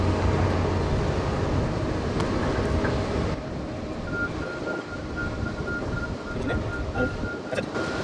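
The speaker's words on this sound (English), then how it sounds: "Now the wind always blows when I want to do this, always." Wind blows outdoors during a skylight leak repair on a roof, a broad steady rushing noise buffeting the microphone, heavier at first and then easing slightly.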